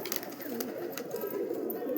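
A local pigeon held in the hand, with soft cooing and light rustling close by amid a steady murmur of background noise.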